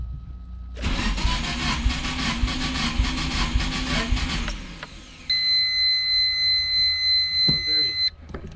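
A Nissan 240SX engine cranks over for about four seconds with a rhythmic, even starter chug, then stops; a steady electronic beeping tone follows.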